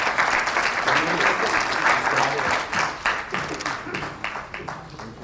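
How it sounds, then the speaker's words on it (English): Audience at an award ceremony of an achievers' conference in New Delhi bursts into loud, close applause that holds steady and then thins out, with a voice speaking underneath. "Please clap for him."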